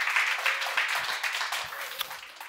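An audience applauds a speaker, a dense, even patter of many hands that holds steady and then slowly fades over a couple of seconds.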